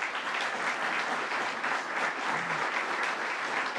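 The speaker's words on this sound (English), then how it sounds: "Let's give him a round of applause as well." Steady crowd applause at a New York State announcement on firefighter training investments with Governor Kathy Hochul, an even wash of many hands clapping throughout, fairly quiet and heard from some distance.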